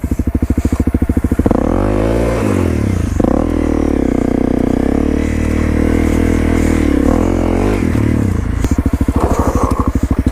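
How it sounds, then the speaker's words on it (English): A motorcycle spins its back wheel through a foot-down donut turn-around, its engine revving loud and close with sustained throttle, scraping and clattering, dipping briefly before rising again near the end. "give it a little gas and release the clutch just enough to get the back wheel spinning to go around"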